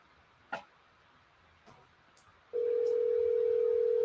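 A steady phone ringback tone starts partway through and holds unbroken to the end, loud and close. It follows a few faint clicks and taps over a quiet background, as an outgoing call is placed to a mother.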